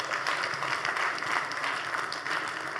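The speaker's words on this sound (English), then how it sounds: "A round of applause for these banks." Applause from the audience at the Zenith Bank 34th Annual General Meeting, a steady, faint wash of many hands clapping heard from a distance throughout.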